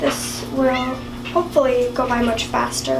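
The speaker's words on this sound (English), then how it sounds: "That is my cat meowing because he always wants to come into the bathroom when I'm in here" A cat meows insistently at a bathroom door, several drawn-out, wavering meows close by, overlapping with someone talking.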